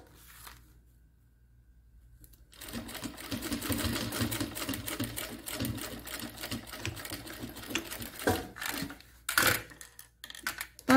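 A sewing machine stitches a 1 cm seam joining two fabric panels right side to right side for a pen case, starting after a quiet moment and running in rapid close bursts with brief stops and fabric handling, no talking.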